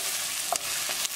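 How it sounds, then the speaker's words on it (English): Onion and green chili frying in a pan for potato curry, a steady broadband sizzle with a few soft spoon scrapes as they are stirred, close and fairly quiet. "Cooking onion for 3 minutes. Now add green chili."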